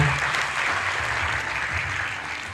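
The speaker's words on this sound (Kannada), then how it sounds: "ನಮ್ಮೆಲ್ಲರ ಚಪ್ಪಾಳೆಗಳು ಬರಬೇಕು." Audience at a microfinance scholarship distribution ceremony breaks into steady, dense applause, a continuous wash of clapping that holds level throughout.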